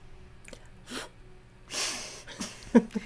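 A voice imitates a small flying creature sneezing, with soft breaths and snorts building to a loud, breathy sneeze burst and a few short snuffles after, up close and without words.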